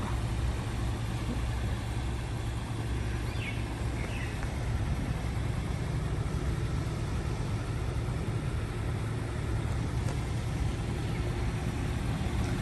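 A Honda HR-V e:HEV EL hybrid's engine runs at a steady idle, a low, even hum that holds for the whole stretch with no voices.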